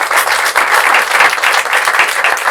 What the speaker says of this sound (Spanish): Por favor, un aplauso muy grande para ella.